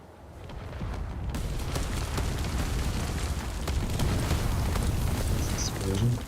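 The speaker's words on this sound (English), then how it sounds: "All that mortar fire is just raining down." Mortar fire explosions pounding down in the Space Engineers video game during an RTS battle scenario, a sustained rumbling barrage of booms with someone talking over it.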